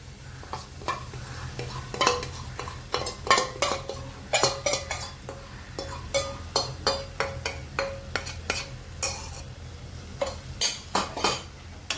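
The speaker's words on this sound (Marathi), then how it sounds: "छान मिक्स करून घेऊया" Curd batter stirred into paneer chingari masala in a pan, a spoon scraping and clinking against the metal in steady irregular strokes over a low background hiss, close and fairly loud, with no talking.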